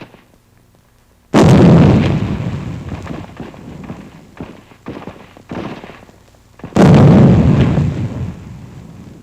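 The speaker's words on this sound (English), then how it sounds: "With grenades, troops clean out bypassed cave pockets in the Santa Fe area." Two loud, close grenade blasts in wartime combat in a cave area, each a sudden roaring boom that fades slowly, with sharp rifle shots cracking in between.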